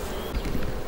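Honey bees hum in a low, continuous buzz around their hives during a honey harvest in the Landes, close and steady for a brief moment without speech.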